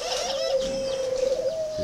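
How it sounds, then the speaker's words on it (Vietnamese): Spotted doves on a bird farm near Hanoi coo at feeding time in the late afternoon, a sustained soft, mellow call with faint chirps mixed in, fairly close and with no voices. "mình đang cho ăn chim và bắt riêng đôi này ra để"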